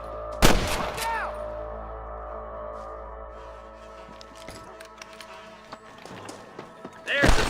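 Gunfire in the Western video game Red Dead Redemption on PC: several sharp, loud shots with ringing tails, the first burst near the start, scattered lighter cracks in the middle, and another heavy blast at the end, mixed with game sound.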